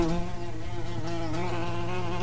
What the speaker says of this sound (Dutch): dan word je weer lastig gevallen door die wespen